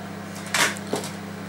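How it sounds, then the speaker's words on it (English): A microwave oven runs while heating risotto, giving a steady low hum with two short clunks partway through, and no voices. "we're going to be popping it into our microwave for another 5 minutes"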